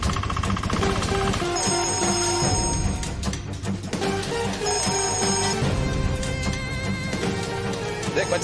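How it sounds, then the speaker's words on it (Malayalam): A telephone rings repeatedly in a Malayalam television serial, its tones partly buried under dense, loud background music that continues throughout. "ദാ ഈ ഫോൺ അടിക്കുന്നു"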